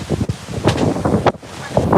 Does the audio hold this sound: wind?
yes